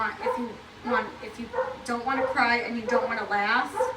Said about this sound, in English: excuse the dog. You guys hear this?